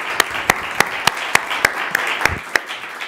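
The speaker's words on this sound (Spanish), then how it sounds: "la despedimos con un fuerte aplauso" Audience clapping to send off a speaker at a talk, a soft bed of applause with a few sharp, regularly spaced claps standing out close by.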